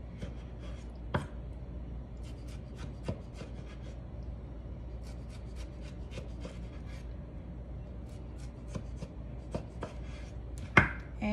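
A knife slices a tomato for salsa on a cutting board, a sequence of crisp taps and short cutting strokes at an irregular pace, close and quiet with no talking.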